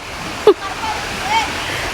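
Rushing floodwater on a farm, a continuous loud wash of flowing water close by, with a short shout rising over it near the start.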